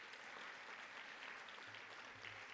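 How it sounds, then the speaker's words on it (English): Audience applause at a high school sports awards event, a steady continuous wash of clapping heard faint and distant throughout. "So let's give them a round of applause."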